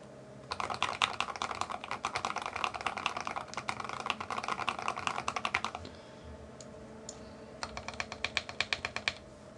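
Typing on a NEO Keys G67 mechanical keyboard with a Palette acrylic case, a dense run of crisp, close key clacks for several seconds, a short pause, then another quick burst of strokes, all in a quiet room with a faint fan hum.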